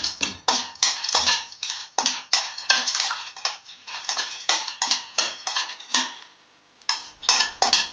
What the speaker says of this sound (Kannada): ಪಿಸ್ತಾ ಹಾಕಿ ಹುರ್ಕೊಳ್ತಾ ಇದ್ದೀನಿ